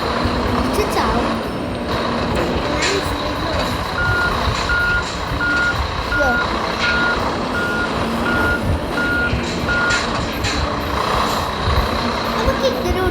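Video game lorry driving with steady repeating reversing beeps over a loud, constant truck engine drone and occasional air brake hiss, while a person talks over it.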